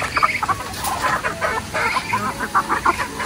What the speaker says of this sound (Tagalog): Papakainin na po ni Papa yun pong mga manok.